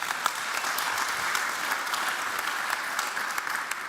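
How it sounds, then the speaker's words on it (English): Steady applause from a conference audience after a talk at an electric-vehicle cybersecurity event, moderately distant and even, with scattered individual claps standing out over the continuous wash of clapping. "so another applause for Maarten"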